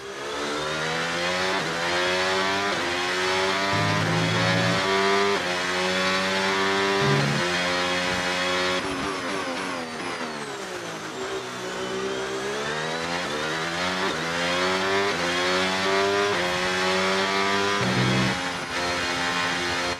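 The Red Bull RB22 Formula 1 engine in the F1 26 racing game screams at high revs around the Chinese Grand Prix circuit, its pitch climbing, then stepping down through quick downshifts before rising again, loud and continuous.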